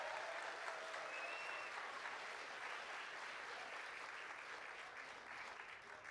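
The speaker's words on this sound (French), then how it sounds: "On peut les applaudir, oui, définitivement." A school audience applauds at a secondary-school student show, sustained even clapping from a large crowd in a hall, moderately distant and continuing steadily throughout.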